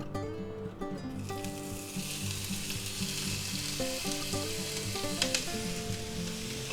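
Onions frying in an oiled pan give a steady, close sizzle throughout, with a few clinks of a utensil over the hiss.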